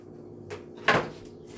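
A cupboard beneath a kitchen counter is opened to pull out a bigger crock pot: a soft knock, then a sharper wooden clack and rattle, close and brief.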